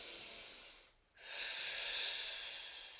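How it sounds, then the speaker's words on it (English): A slow, deep breath drawn during a gentle foam roller exercise, a soft airy hiss that pauses briefly near the start and then swells into a long, steady inhale heard up close with no talking. "Take a nice deep breath here."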